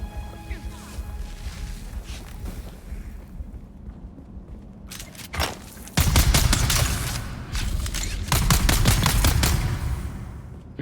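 Sniper and gunfire in the Dune: Awakening video game: scattered shots at first, then loud rapid bursts of sharp cracks after a brief quieter gap, close and forceful.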